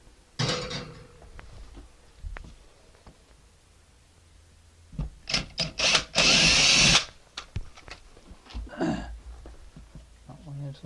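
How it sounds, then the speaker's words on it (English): A power drill bores a hole into a wall to mount wire shelving, with one loud sustained burst of drilling in the middle. Clatter and handling knocks from tools and shelving parts come before and after it. "So let me go ahead and drill my hole."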